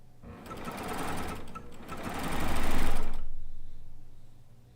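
A cover stitch sewing machine fitted with a chain cover stitch foot chain-pieces fabric, whirring rapidly in two fast runs with a brief pause between, then stopping as the motor winds down.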